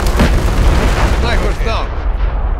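A missile strike in Modern Warfare III booms in a loud, rumbling explosion that sustains through most of the moment and then fades, with in-game radio voices talking over it.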